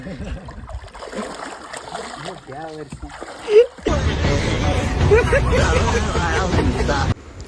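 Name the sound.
people splashing and playing in a river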